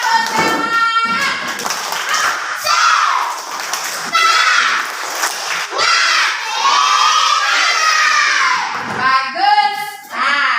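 A classroom of children loudly chants the tepuk semangat spirit clap in unison, with energetic rhythmic shouted phrases, rising and falling voices and a few scattered claps, all close and lively.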